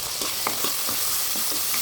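Onions and chillies frying in a pan while being stirred, giving a bright continuous sizzle with quick scraping strokes of the spoon, close and fairly loud.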